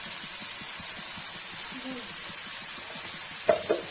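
Onion, garlic, ginger and tomato fry in a pan for a Kashmiri brinjal and potato dish, giving a steady, close sizzle with faint stirring scrapes and a brief louder clatter near the end.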